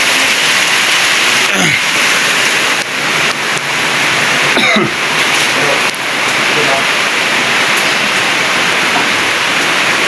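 Heavy rain pours down at night in a dark outdoor spot, giving a dense, steady, loud hiss. A few brief coughs or throat sounds break through it, and no clear speech is heard.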